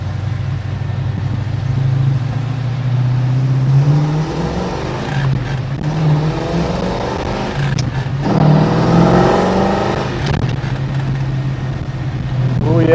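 A 1969 Chevrolet Nova with a six-speed gearbox pulls hard from inside the cabin, the engine rising in pitch through several gear changes with brief dips between shifts, loud and close.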